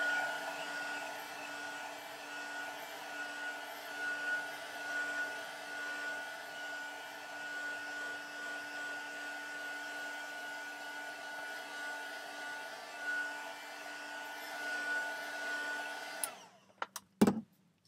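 A hair dryer blows steadily on a crafted envelope, a close, even whooshing hum with a constant motor whine that runs uninterrupted before cutting off, followed by a few soft handling knocks.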